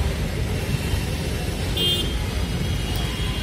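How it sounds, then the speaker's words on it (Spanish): Heavy city traffic in India, a dense, steady road rumble with car horns tooting briefly a couple of times, fairly loud and close, with no clear talking. "Lo siento por el ruido, pero es que hay mucho tráfico."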